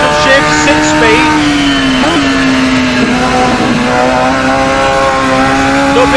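A Radical SR3 XXR race car engine in the video game Assetto Corsa roars at high pitch, shifting gears of its paddle-shift six-speed with brief dips and climbs, loud and continuous.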